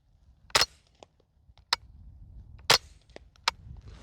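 A TriStar KR22 .22LR rifle fires American Eagle subsonic ammunition at a range, giving sharp, fairly quiet cracks spaced a second or so apart with faint clicks between them.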